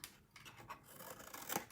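Scissors snip through scored cardstock for a paper clutch treat box, soft close cuts and rubbing with a sharper snip near the end, quiet and without talking.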